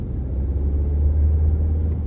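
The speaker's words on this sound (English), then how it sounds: "Yeah, so you can hear the engine," Steady low engine drone and road rumble inside a moving Honda CR-V fitted with extensive sound deadening, with active noise cancellation unplugged; a constant, moderately loud cabin hum throughout, no voices.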